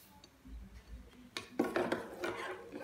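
Honey and sugar being mixed into orange juice in a bowl, with a spoon scraping and clinking against the sides in quiet, uneven strokes that grow louder midway, close by with no talking.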